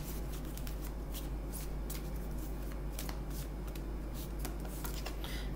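Fairy oracle cards are shuffled by hand in quick, crisp flicking riffles, a dense run of soft snaps and rustles over a faint steady hum, close but quiet, with no talk.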